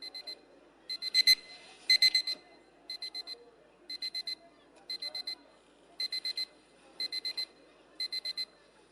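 An electronic alarm clock beeps in repeated quick clusters of four to five tones, rising and pausing in a steady rhythm for several seconds, clear and close in a quiet room.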